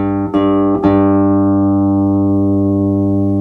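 Two bass guitar strings plucked by finger in a slow fingering exercise, each note ringing with a sharp attack and then a long sustained tone that fades slowly, played close and alone with no voices.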